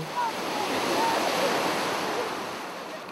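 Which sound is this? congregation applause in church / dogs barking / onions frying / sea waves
sea waves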